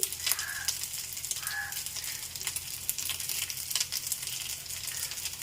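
Oil crackles and sizzles in a pan before a curry is cooked, a steady, fairly loud frying hiss with scattered pops and a couple of short sharper spits, no talking.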